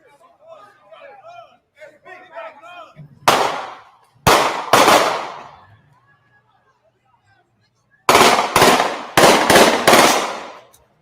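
Loud bursts of gunshots, one burst followed by a quick pair, then a rapid cluster of several shots, preceded by faint voices talking in the distance.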